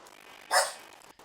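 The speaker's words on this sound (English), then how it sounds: "My doggy's barking" A single sharp dog bark, close and fairly loud, against a quiet background.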